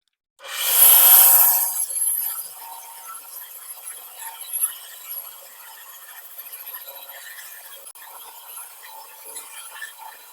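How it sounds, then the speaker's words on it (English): A bandsaw cuts through a wood blank in a shop: a loud burst of blade-on-wood rasping at the start, then a quieter, ongoing scratchy cutting and rubbing sound until the end. "I'm going to cut this out on my bandsaw"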